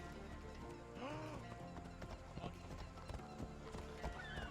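Horse hooves clip-clop steadily in the Assassin's Creed Odyssey video game, with a horse whinnying near the start. The sound is close and prominent over busy game ambience and music.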